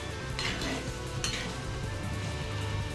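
A pan of egg masala with eggs sizzles and bubbles steadily as it simmers, with occasional clinks of a utensil against metal, no voices.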